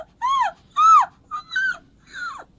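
A voice imitates a very small, distressed puppy with five high, thin whimpering cries near the top of its range, each rising then bending down; close and clear, spaced irregularly with brief silences between.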